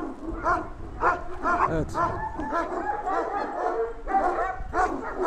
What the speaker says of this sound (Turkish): Şimdi burada aşağı yukarı 4 aylık yavrularım var.